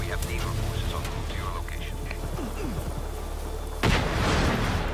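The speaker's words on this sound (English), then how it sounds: "And a shitty explosion." A loud blast bursts out near the end of a Just Cause 3 Laguna Blast round, following a rumbling stretch with scattered crackles and thuds.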